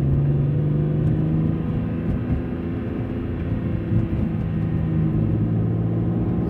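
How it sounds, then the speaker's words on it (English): A BMW E46 M3 with an SMG transmission accelerates hard in drive, heard from inside as a loud continuous engine roar with steady low rumble and rising harmonic tones. "So we're on a hard acceleration here in drive."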